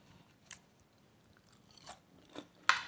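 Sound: crunchy chewing of stir-fried kimchi with squid

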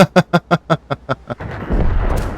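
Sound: tank cannon firing in video game

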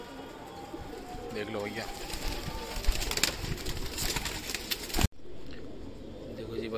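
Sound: pigeons cooing in a cage

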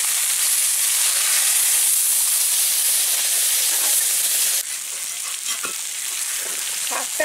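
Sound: vegetables frying and stirring in pan, water added

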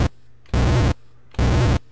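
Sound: computer-generated explosion sound effect

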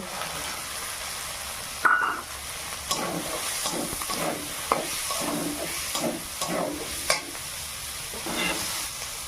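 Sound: peas added to sizzling potato curry pan

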